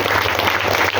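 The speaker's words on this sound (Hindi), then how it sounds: "थोड़ा सा मुस्कुराइए और जोरदार ताली बजा के उसका स्वागत कीजिए" Loud, dense applause from a spiritual gathering's audience, steady and continuous throughout, with no speech over it.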